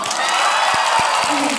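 A crowd of university students at a Hutech campus event with a singer claps and cheers loudly and continuously, with a few low thumps mixed into the dense roar.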